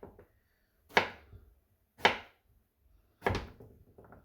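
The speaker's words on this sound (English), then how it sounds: "This is another shape, another way of cutting yam for frying." A knife cuts through firm yam onto a board in three separate, close thunks, spaced about a second apart, with quiet between.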